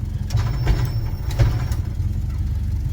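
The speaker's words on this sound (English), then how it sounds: "Truck's pulling around." A truck engine idles with a steady low rumble as the vehicle pulls around on an abandoned farm, close and continuous, with faint rattles on top.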